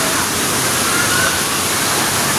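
A South Cebu waterfall in the hills gives off a steady, close, full-bodied rush of falling water that holds at the same level throughout, with no voices.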